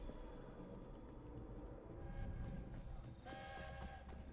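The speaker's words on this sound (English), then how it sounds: "that's not a train, that's a ship." A ship in the Victorian London setting of Assassin's Creed Syndicate sounds a faint, distant horn. Low rumbling ambience sits beneath it, and a steady tonal blast rises near the end.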